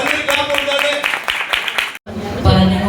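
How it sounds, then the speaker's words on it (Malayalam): Children clapping together at a Vacation Bible School session, a dense burst of applause for about two seconds before a brief cut, followed by a voice talking over the room. "Okay, നല്ലൊരു ക്ലാപ്പ് കൊടുത്താട്ടെ."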